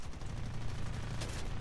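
An F9F-5 Panther's M3 cannon firing in War Thunder, a rapid, steady chatter of shots over continuous jet engine drone, moderately loud throughout.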